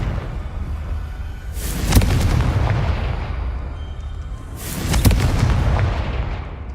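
The Confringo fire spell in the video game Hogwarts Legacy sets off two deep, booming explosions a few seconds apart. Each blast rumbles heavily and fades slowly.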